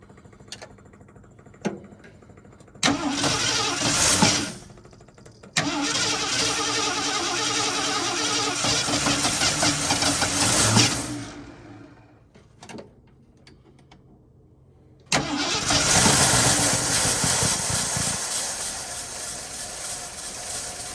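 An old Ford F350 truck, abandoned for 22 years and needing choke, cranks in short bursts, then catches and runs steadily before dying back and firing again into a rough, loud idle.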